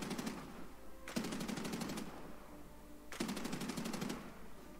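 Aircraft machine guns fire in War Thunder with convergence set at 50 meters, in two sustained bursts of rapid automatic fire separated by a pause, loud and close over a steady engine drone.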